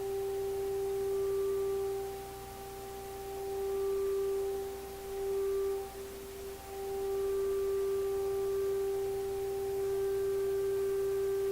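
A steady pure sine tone from tuning an Electrohome Kalmar console stereo receiver holds throughout, fairly faint, with slight wavering and brief dips in level, plus faint thin tones and hiss in the background.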